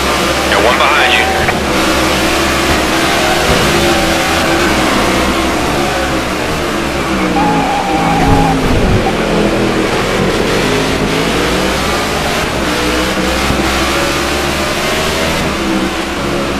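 A race car engine at Sonoma Raceway, loud and close, holding a strained mid-pitched drone with shifting revs throughout, while voices talk over it on a radio or intercom.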